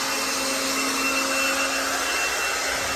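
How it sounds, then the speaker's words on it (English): A small cordless leaf blower runs at full power nearby, giving a steady, loud whirring whine with a constant airy rush that doesn't vary. "Now, it's all fired up, and I think it's going to be pretty loud, so let's give it a try."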